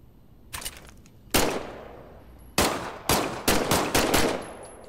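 Single shots from a weapon being test fired in Medal of Honor VR, several sharp, loud reports spaced irregularly, some close together, each with a short decaying echo and no talk.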